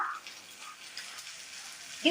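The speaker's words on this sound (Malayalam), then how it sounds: "ചൂടായ ചട്ടിയിലേക്ക് വെളിച്ചെണ്ണ ഒഴിച്ചു കൊടുക്കാം" Coconut oil is poured into a heated pan, giving a soft, steady hiss and pouring sound at low volume, ending in a brief louder clatter.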